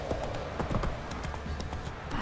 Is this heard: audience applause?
no